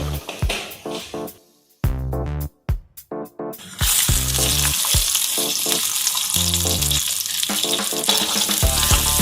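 Mustard seeds spluttering in hot oil for a tempering of shallots, dried red chillies and curry leaves: a few sharp pops at first, then a steady loud sizzle with crackling throughout.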